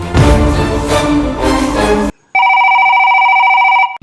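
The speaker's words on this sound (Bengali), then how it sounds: "বস উপর মহল থেকে কল আসছে।" After about two seconds of loud, dense background sound, a telephone rings with a steady electronic tone that stays loud and close, then cuts off just before the end.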